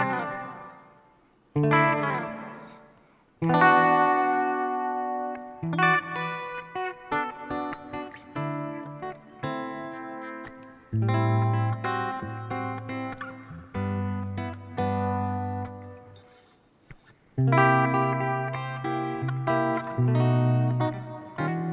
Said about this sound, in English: Let me blend in a little bit of this reverb so we can hear what that sounds like.